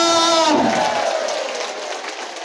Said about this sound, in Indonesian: Tepuk tangan untuk guru hebat Indonesia.